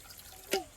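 A single short splash of water poured into dal, close and brief, with a faint bright drip tone, in an otherwise quiet setting.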